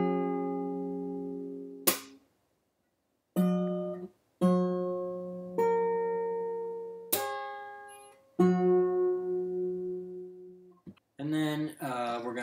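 Fingerstyle guitar plays a slow passage with pull-offs and slaps, sounding as sparse plucked notes that ring out between sharp percussive hits, with gaps of silence and a brief flurry near the end, close and clean.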